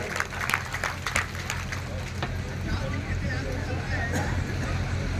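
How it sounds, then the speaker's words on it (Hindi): A crowd at a mass wedding ceremony breaks into applause for a re-elected party city president, sharp individual claps at first giving way to a dense, steady wash of clapping and crowd murmur. "इस बात की तालियां बजाइए"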